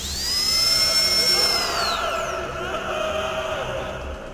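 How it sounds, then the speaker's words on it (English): A high whining dentist drill pitch in a video game rises and holds, then slides downward as a strained, wailing, terrified scream takes over, fairly loud and close. "you will hear the sound of a dentist drill followed by the sound of terrified screaming"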